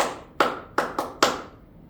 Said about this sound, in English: We're gonna do the clapping sound.